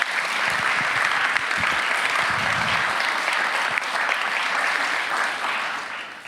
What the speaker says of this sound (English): Good moment for applause indeed.